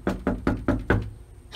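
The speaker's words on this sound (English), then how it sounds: "Gonna knock on this door." Five firm knocks on a door, evenly spaced and loud, each a sharp thud that rings briefly before the next.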